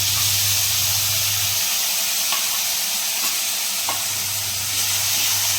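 Spice paste and chicken frying in a pan while being stirred, a steady close sizzle and hiss with a few scraping strokes of the spoon, no talk.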